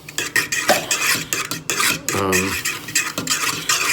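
Homemade taco sauce with tomato sauce being stirred in a pot on the stove, a spoon scraping and clinking against the metal in repeated close strokes, with a brief hum midway and no talking.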